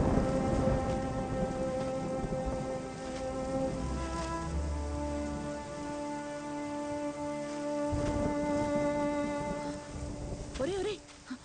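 Steady rain pours through a film scene, with rumbles of thunder under a sustained musical score and a short voice near the end.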